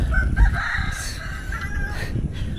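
Close chickens clucking with a rooster crowing loudly, drawn-out calls overlapping against a low background rumble.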